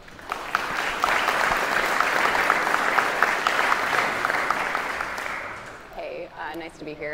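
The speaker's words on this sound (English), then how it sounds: "let's give a round of applause for Kristen." An audience at a Mac malware analysis conference talk claps in sustained, dense applause that swells and then fades, followed by a speaker beginning to talk.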